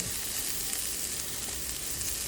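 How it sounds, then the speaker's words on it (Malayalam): Garlic and onion sautéing in oil for an egg-stuffed puttu, giving a steady, even sizzle with no break, close and fairly quiet. "അതിനകത്തോട്ട് നമുക്ക് വെളുത്തുള്ളിയും ഉള്ളിയും കൂടെ ഇട്ട് നന്നായിട്ട് വഴറ്റിയെടുക്കുക"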